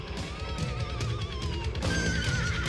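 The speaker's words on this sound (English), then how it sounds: "Yeah, the horses," A horse whinnies with a long, wavering neigh that rises again near the end, heard over the loud, dense close of a heavy metal song.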